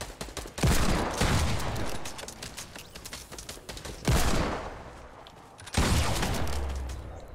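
Dense bursts of video game gunfire in a shootout, loud and close, with rapid overlapping shots that surge in three heavy waves separated by brief lulls, no talking.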